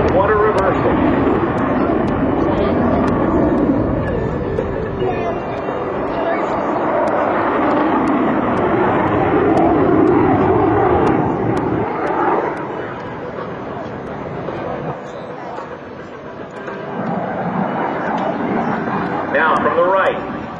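An F/A-18C Hornet jet flying a loaded roll at an air show, a continuous loud roaring engine rumble that swells and fades, with a commentator talking over it throughout.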